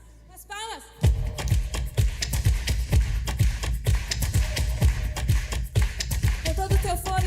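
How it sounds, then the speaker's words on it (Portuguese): A church congregation claps hands in a steady, driving rhythm after a brief quiet start. The many crisp claps ring close and loud, with faint voices mixed in beneath them. "As palmas!"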